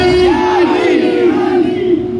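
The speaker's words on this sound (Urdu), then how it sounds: "نعرہ لگاؤ پیچھے سے" Large crowd at an Islamic religious gathering in Agra shouts a slogan response in unison, a loud, sustained, close chant with sliding pitch and no other voices.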